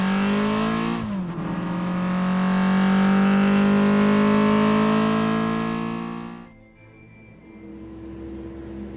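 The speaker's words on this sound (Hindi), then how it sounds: "और बुल्ली इतना कहकर गाड़ी में बैठकर चल देता है।" A cartoon car pulls away: an engine revs up after a brief start, holds a loud rising drone for several seconds, then cuts off sharply, leaving a faint hum.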